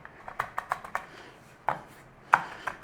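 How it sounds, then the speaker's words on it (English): Garlic being minced with a knife on a cutting board in a home kitchen, a run of quick sharp chops followed by a pause and a couple of louder isolated knocks, close and clear with no talking. "Garlic, smash, mince, big or as small as you like."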